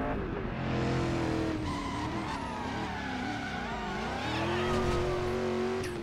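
A car in the Driver: San Francisco video game slides through a handbrake turn, its engine droning and revving steadily with a tire skid mixed in, loud and continuous with no voices.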